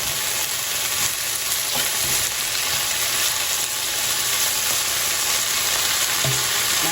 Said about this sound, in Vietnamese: Mình xào nó lên, xào nó nhanh tay lên để nếu mà nó chín quá nó không có ngon.